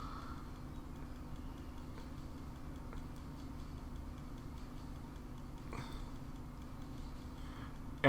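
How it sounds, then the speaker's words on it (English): Faint, regular ticking clicks come from a repeatedly firing barrel in modded Minecraft (Tazzcraft), a quiet mechanical clatter that keeps going over a low constant hum. "we look into the barrel, and it is clicking away"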